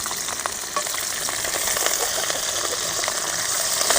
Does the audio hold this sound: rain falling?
no